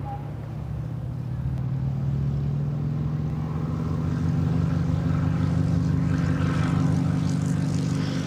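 A Percival Provost piston trainer with an Alvis Leonides engine takes off at an air show: a steady propeller-engine drone that swells slowly as the aircraft rolls and climbs, loud and close throughout.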